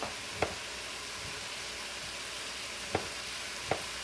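Ingredients for pork fried rice sizzle in a hot pan with a steady, fairly quiet frying hiss, broken by three sharp clicks or knocks from the pan or utensil; no one talks.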